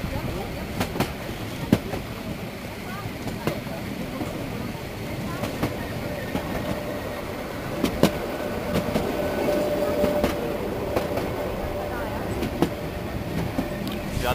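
The Brocken Railway train climbs the mountain from Schierke toward the Brocken summit, its rolling carriages giving a steady rumble with periodic clickety-clack wheel knocks and a faint squeal, heard from on board while a voice talks.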